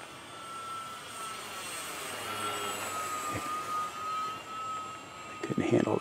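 An FMS Bearcat RC model airplane flies at a flightline, its engine whining steadily at a distance for several seconds before a louder, closer burst of noise at the end, with people talking faintly in the background.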